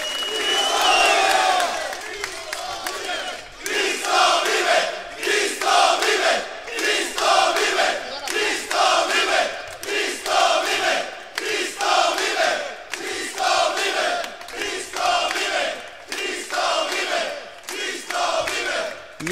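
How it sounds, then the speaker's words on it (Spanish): A crowd of men at a church retreat shouts in unison, loud rhythmic bursts roughly every second, each call rising and falling in a chanting pattern that repeats for the whole stretch. "¿Quién puede gritar que Cristo vive?"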